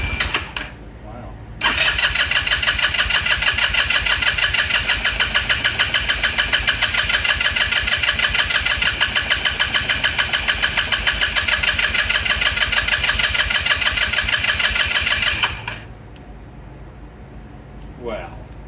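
A Lance Cali Classic 125cc scooter being cranked, its starter whirring in a loud, fast, even pulse for about fourteen seconds before cutting off abruptly, with quiet handling noise before and after.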